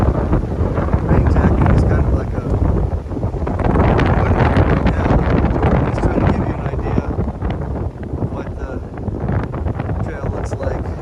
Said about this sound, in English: Crazy windy out.